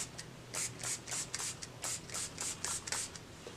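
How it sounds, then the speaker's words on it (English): Makeup setting spray is misted from a pump bottle in a rapid series of about a dozen short, soft hissing spritzes, close and quiet. "I'm super excited just to spray this all over my face"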